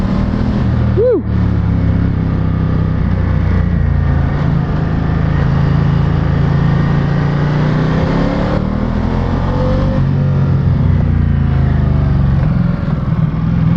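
A Ducati Diavel 1260S motorcycle under way, its engine droning loud and steady throughout with rising pitch sweeps as it accelerates, wind rush over the top.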